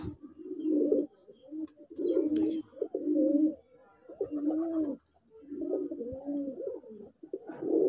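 A male red golla pigeon coos repeatedly in close, low rolling phrases, about a dozen bursts with short gaps between them, alone and clear against a quiet background.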